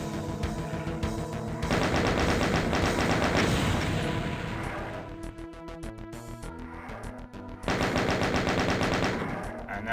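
Chaingunners firing chainguns in the video game Doom, dense rapid-fire bursts of gunfire, loud and near, with a short easing in the middle before a fresh volley.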